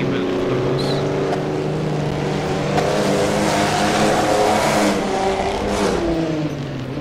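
1937 Grand Prix race cars, including a Mercedes and an Alfa Romeo, roar in the video game Assetto Corsa at Bremgarten, a loud continuous engine drone with rising and falling revs as cars run close together.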